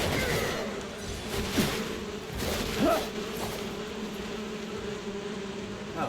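A swarm of bees from the video game Crimson Desert drones with a steady, dense buzz, joined by a couple of brief impact thuds and a low rumble.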